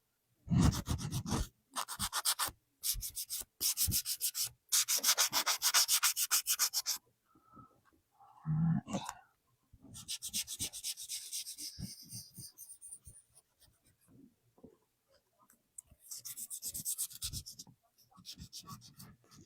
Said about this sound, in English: And I'm just doing a light little sand over it.